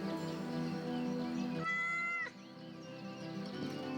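A cat meows in the video game Yes Your Grace after being petted, a short tonal meow standing out over steady background game music.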